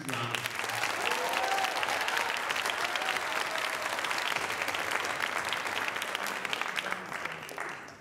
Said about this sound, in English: Let's give, at this point though, all our participants a huge round of applause.